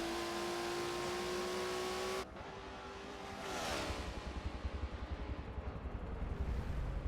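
Race cars, including a Ford GT and a BMW, roar through a racing video game at Daytona. A loud, steady engine drone shifts sharply in pitch partway through, then settles into a pulsing, rumbling note as the cars run close together.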